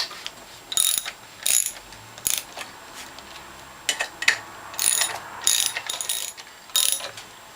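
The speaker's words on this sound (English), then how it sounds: "the next step is to tighten the bolts for the reservoir and for the pump." Ratchet tightening bolts on a premium base plate for a Norwalk juicer, giving repeated short clicking bursts in an irregular rhythm, close and fairly crisp, with quiet gaps between strokes and no talking.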